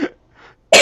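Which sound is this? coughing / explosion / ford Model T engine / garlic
coughing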